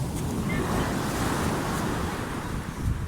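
Ocean surf rolls and hisses continuously, with wind buffeting the microphone, under a steady wash of breaking waves.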